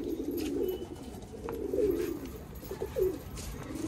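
Hyderabadi pigeons coo softly in low, rolling phrases, a few overlapping calls from fairly close against a faint background hiss.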